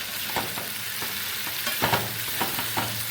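Chicken stir-frying in a pan for chicken khichdi, a constant oily sizzle with repeated spoon scrapes and stirring knocks at an uneven rhythm, close and clear, with no talking.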